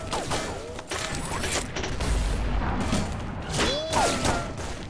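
A muffled grenade explosion in the video game XSHOT booms amid constant mechanical clatter and thuds, with a couple of rising whooshing tones and busy background noise.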